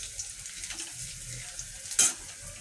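Chopped ginger fries in a pan for a paneer malai kofta curry, giving a steady soft sizzle with faint stirring scrapes and one brief sharper clink near the end.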